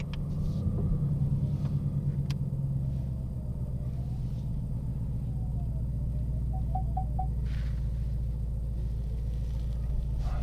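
A Roush supercharged 700 hp Mustang GT idling while warming up, a deep steady rumble close by with a brief rise at the start, then a constant low throb.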